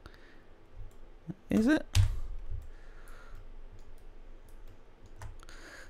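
Computer mouse clicking while working in Cinema 4D, a few sharp close clicks bunched together, with a person briefly speaking nearby.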